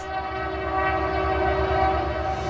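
Canadian Pacific freight train sounding its horn, a loud sustained multi-tone blast held steadily throughout with a low rumble of the moving train beneath, no voices.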